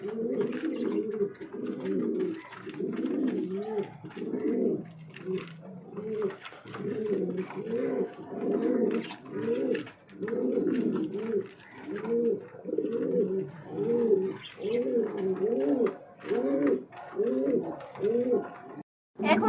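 White King pigeons, a running breeding pair, coo in a steady run of repeated low, rolling calls close by, with no talk.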